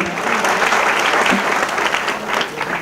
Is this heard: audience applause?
yes